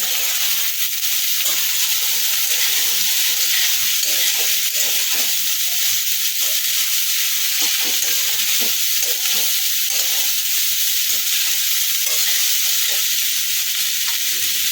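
Paneer fried rice being stirred in a pan, a constant loud bright sizzle of frying with scraping stir sounds scattered throughout, no talking.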